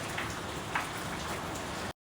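Heavy nighttime rain falls steadily at a fishing community's waterfront, a dense, even hiss of drops pattering on surfaces with no voices.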